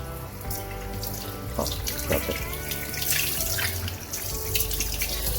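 Water runs steadily from a tap into a sink, a constant splashing flow with a few brighter splatters and drips over a low background hum.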